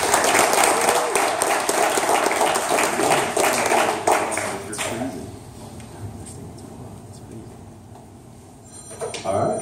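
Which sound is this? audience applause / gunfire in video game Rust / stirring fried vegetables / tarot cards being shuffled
audience applause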